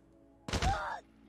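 A brief burst of gunfire in the Call of Duty Mobile game: a sharp, loud onset followed by roughly half a second of dense blasts that end abruptly, with no other sound around it.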